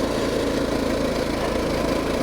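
A mini bike engine on studded tires held at full throttle, a loud, steady, buzzing drone heard close for a couple of seconds.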